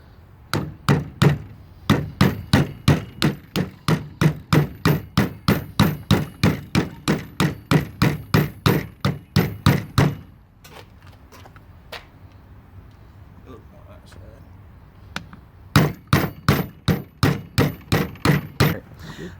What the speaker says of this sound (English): take the hammer and just light taps and just tap all the way around it